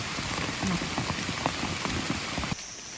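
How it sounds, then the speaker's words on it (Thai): Steady rain falls on the ground outdoors during mushroom foraging, a dense, even patter of drops at close range that continues throughout and becomes slightly softer near the end. "ฝนตกจ้ะ"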